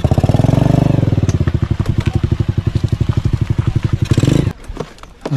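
A motorcycle engine idles close up on a farm, pulsing in a fast steady chug for several seconds before cutting out abruptly, leaving quiet.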